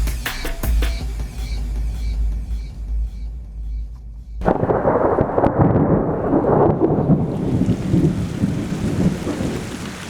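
Rain falling hard in an Andean equatorial highland, a dense broadband wash that swells after a deep thunder rumble and continues steadily to the end, loud and close.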